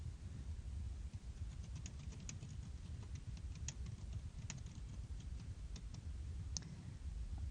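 Faint scattered clicks of a computer mouse during editing in PowerPoint, sparse sharp ticks over a low steady background hum, quiet and close, with no talking.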